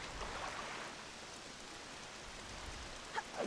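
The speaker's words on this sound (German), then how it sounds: "Es regnet." Steady rain hissing in The Legend of Zelda: The Wind Waker HD, a soft continuous wash of falling water with a couple of faint chimes near the end.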